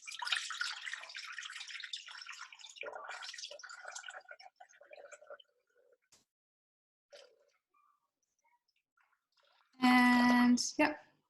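Water poured from a jug into a Thermomix bowl makes a brief loud splashing burst near the end, after a stretch of speech and quiet pauses.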